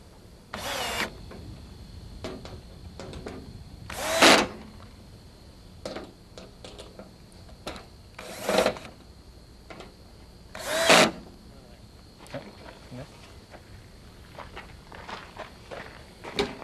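A power drill drives screws into the top rails of a round above-ground pool in four short whirring bursts, with quieter clicks and handling noises between them.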